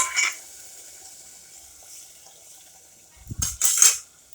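A little water poured into a pan of brinjal cooking for a Marathi-style vangi bhaat bhaji: a brief splash near the start, a quiet stretch, then a louder splashing pour near the end.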